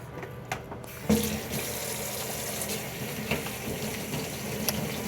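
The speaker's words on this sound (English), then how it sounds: "Rinse them off real good." Tap water runs steadily into a sink as potatoes are rinsed under it, a continuous close splashing stream with a few brief louder splashes.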